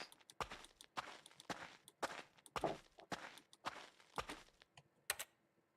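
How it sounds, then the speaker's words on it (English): Footsteps, a solitary walker's steady treads, each step a distinct close, crisp thud in an otherwise silent space, about a dozen in a row. "All I can hear is my footsteps."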